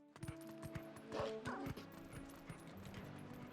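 A dog in the game Twilight Princess gives a few short, faint barks and yips mixed with quick clip-clop footsteps, all quiet and close against low game background sound.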